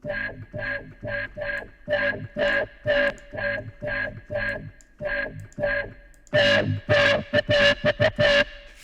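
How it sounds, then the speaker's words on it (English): Rhythmic bursts of distorted, buzzy electronic sounds from Tony Hawk's Pro Skater 1 repeat in quick pulses, pausing briefly before a louder, harsher run of blips. "this is where the distortion comes in, I think."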